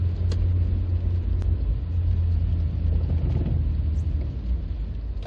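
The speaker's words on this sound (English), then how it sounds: "Hopefully you can hear this transmission whine that I'm getting." A 2004 Suzuki Grand Vitara 1.6 Sport three-door on the move, with a steady low road rumble and a faint transmission whine running evenly through the cabin, no voices.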